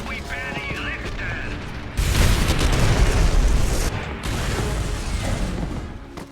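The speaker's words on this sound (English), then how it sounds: "They catch up to him despite the opposition and blow up his tank." A tank blows up in the video game Call of Duty 3, a sudden loud blast partway through that swells into a long rumbling roar, then drops and resumes as a dense, continuous battle din.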